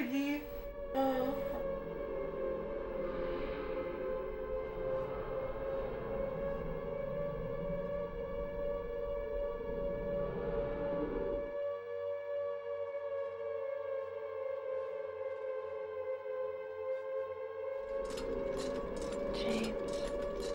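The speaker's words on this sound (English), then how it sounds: "Once again, the siren sound." A wailing civil-defense-style siren from the video game Silent Hill 2 holds a steady tone with harmonics throughout, with soft game ambience and low rumbles under it and a brief break in the low background partway through.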